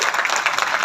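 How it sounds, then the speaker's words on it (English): Applause from an audience at a press meet for a streaming show launch, a short dense burst of steady clapping that fills the moment without any voices. "I think a big round of applause."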